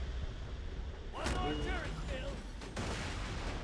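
Sniper rifle and automated turret fire in the video game Borderlands 2, played as Axton: a dense burst of gunfire and blasts lasting about a second and a half, set over steady game background noise, with ringing tonal effects.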